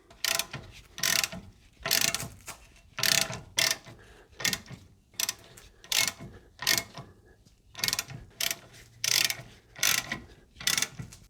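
A ratchet wrench tightens nuts on a Toyota Land Cruiser swivel hub against the steering arm, giving about a dozen loud, close rhythmic bursts of metallic clicking separated by short pauses, with no talking.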